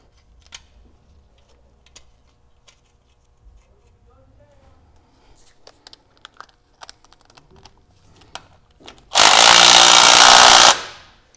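Cone washers and nuts on an 80 Series Land Cruiser steering knuckle are snugged up: scattered small metallic clicks and ratchet-like ticks, then a loud burst of a power tool near the end.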